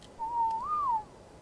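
A single whistle command in the video game ARK Survival Evolved, a clear pure tone that holds steady, then rises and dips briefly before ending, heard alone over faint background hiss.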